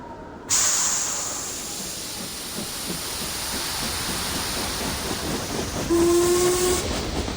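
A video game train rumbles steadily with a constant hissing roar, and a brief whistle tone sounds near the end.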